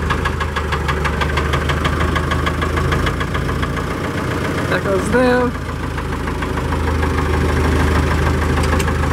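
A Deutz-Allis 7085 tractor engine idles with a steady, knocking rumble throughout, close by, while someone speaks briefly over it.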